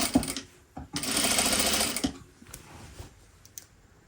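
A sewing machine stitches linen at a 2.5 stitch length, a close, loud whirring run of about one second between short bursts of stitching and quieter mechanical clicks.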